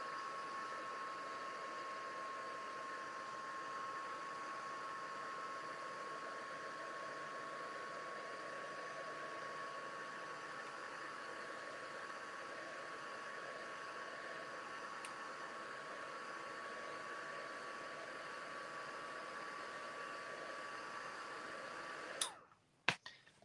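Heat tool blowing hot air over acrylic, a steady faint hiss and whine running continuously and close, ending with a few sharp clicks.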